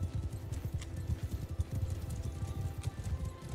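Rapid, steady clip-clop of horse hooves galloping in Mount & Blade II: Bannerlord, a dense, continuous thudding rhythm close by with no talk.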